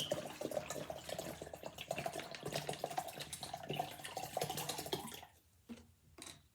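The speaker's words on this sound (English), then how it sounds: "And I'll be adding 2 water bottles," Water from two bottles poured into a small pitcher, a continuous close trickling and splashing stream at low level that tapers off into a few faint drips.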